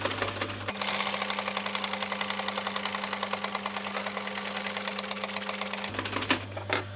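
A sewing machine stitching camper cushion fabric, running in a fast, even mechanical rattle for several seconds, close and steady, with a brief pause before and after the run and no speech.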